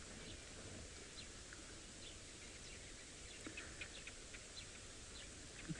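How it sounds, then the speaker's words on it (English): A subtle dawn chorus of birds at sunrise during an early-morning safari drive: faint, scattered chirps and calls over a quiet, steady bush ambience, with a few slightly louder notes toward the end. "let you listen to the very subtle dawn chorus here"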